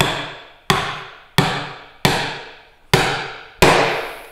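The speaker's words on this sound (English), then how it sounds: "So I'll use my split top on the workbench and whack it into there." A wooden tenon is hammered into a through mortice on a split-top workbench with six loud, evenly spaced blows. Each sharp thud decays slowly, and no voices are heard.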